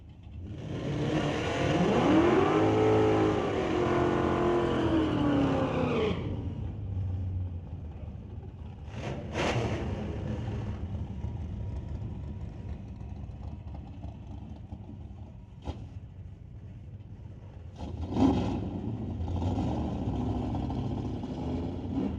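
A drag race car launches off the line at a raceway, roaring loud and close with its engine note sweeping upward through wheel spin, then fading into a lower rumble with a few sharp bursts later.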